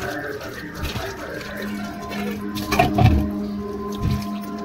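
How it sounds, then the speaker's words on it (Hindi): Peeled taro root (arbi) is washed by hand in water, giving intermittent sloshing splashes and squishy rubbing over a low steady background hum. "अब हम इसको धुलेंगे, अच्छे से वॉश करेंगे, क्योंकि इसमें मिट्टी भी है और इसके छिलके भी हैं।"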